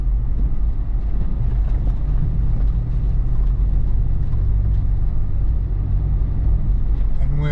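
An off-road vehicle grinds up a steep, turning section of the White Rim Trail in Canyonlands in two-wheel drive and second gear, its engine a loud, steady low rumble throughout.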